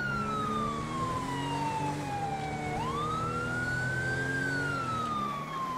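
A police car siren wails continuously and loudly in GTA 5 with the LSPDFR mod on a Newark police patrol in a CVPI cruiser, its tone sliding down and sweeping back up over a steady engine rumble.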